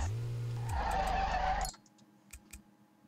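Car braking into a skid in the racing game Street Legal Racing: Redline: a loud engine drone gives way to a sustained tire screech lasting over a second, then cuts off abruptly, leaving faint clicks.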